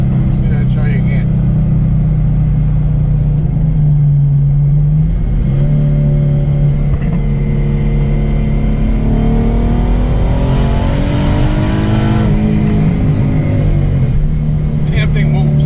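A twin turbo V6 car fitted with a ProCharger and running about 9 pounds of boost accelerates hard, its loud close engine drone climbing in pitch through the revs with a brief dip and rise between gears.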